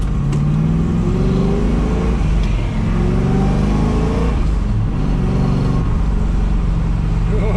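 A 1973 Chevrolet Camaro Z28 with a newly installed roller cam drives along, its engine droning and rising and falling through gears with a steady low road rumble, heard from inside the car.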